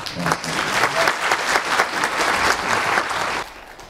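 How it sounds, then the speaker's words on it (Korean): A room full of people claps warmly and steadily for a few seconds, then the applause quickly fades out. "이재은 교수님을 따뜻한 박수로 맞아주십시오"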